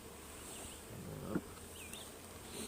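Honey bees buzz around an open hive during a full beehive inspection, a steady, soft drone with individual bees whining past close by.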